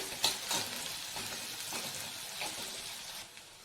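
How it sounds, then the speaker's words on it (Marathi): Finely chopped small onions frying in oil in a pan: a soft, steady sizzle with light stirring scrapes, fairly quiet and with no voices. "आता कांदा आपला चांगला तेलामध्ये भाजून घ्यायचा"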